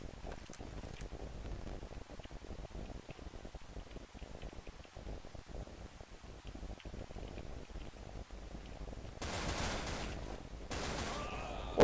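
Rapid gunfire crackles in the online shooter game Wolfteam, long stretches of fast, quiet automatic shots with a couple of louder bursts near the end, heard at low volume.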